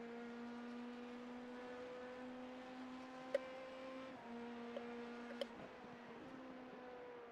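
An LMP2 back-marker race car at Sebring in iRacing, heard as a steady, faint, high engine whine with shifting harmonics and a few sharp clicks, with no talking over it.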